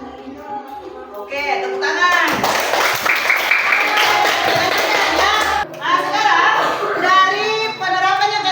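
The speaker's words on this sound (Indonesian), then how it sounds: "Oke, tepuk tangan." Children clap together in a classroom, a burst of applause lasting a few seconds amid lively kid chatter, with a teacher's voice before and after.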